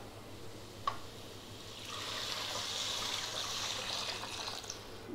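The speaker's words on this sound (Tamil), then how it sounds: "இப்போது தண்ணி ஊற்றிக்கலாம்." Water is poured steadily into a cooking pan of sambar powder fried in oil, a soft rushing trickle that builds after a small clink and continues for several seconds.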